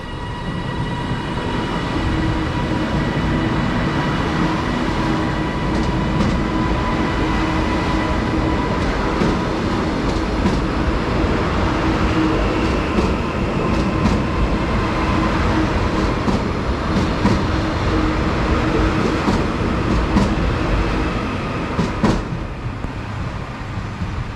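A train rumbles steadily through Lancaster station on the West Coast Main Line, with continuous rolling noise, metallic squeals and clatter, loud and close throughout.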